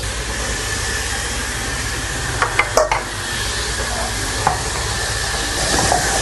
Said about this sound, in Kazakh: Қазір біз сәбізімізді табаға май қойып, қуырып аламыз.